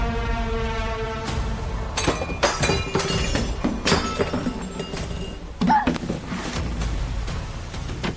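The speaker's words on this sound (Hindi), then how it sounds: "अनिका, अगर ये तोड़ फोड़ की आवाज तुम्हारे पापा ने सुन ली ना तो बहुत बड़ा तमाशा हो जाएगा।" Repeated crashes, thuds and shattering glass ring out irregularly, with clinking debris between hits, over a quiet tonal background.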